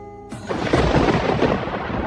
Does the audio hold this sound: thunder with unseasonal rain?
yes